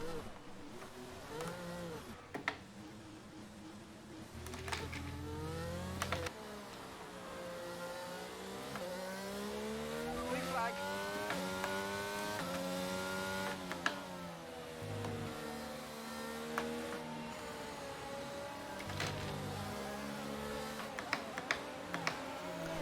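F1 2022 video game race car at Bahrain, engine revving up and down through wavering pitch sweeps as the car spins out on track, steady and close with no talking.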